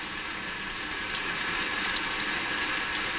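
A steady stream of cold tap water at 62 degrees pours continuously into a sink during a Volcano 6000 water heater test, a bright even hiss with no pauses or voices.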